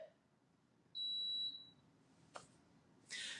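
A smoke detector gives one shrill, sustained electronic beep lasting about half a second, faint and distant over a quiet room, followed by a couple of brief unrelated noises.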